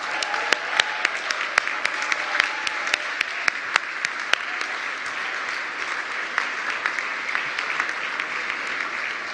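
Sustained applause from a conference audience at a cyber capacity building event, steady broadband clapping at moderate level for about nine seconds with scattered sharper claps standing out.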